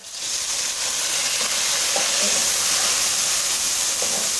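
A loud, steady sizzle of tomatoes frying with onions in a pan, with faint stirring clicks through it.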